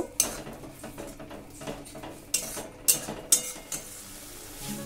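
Poppy seed paste stirred and sautéed in a pan for fish curry, with sharp irregular clinks and scrapes of a metal utensil against the pan and a faint sizzle beneath.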